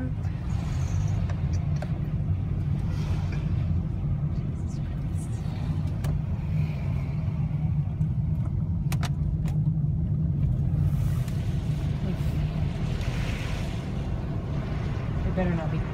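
A van driving up the narrow, winding Corkscrew Hill road in Galway, Ireland, heard from inside as a steady low engine hum and road rumble throughout, with people talking over it.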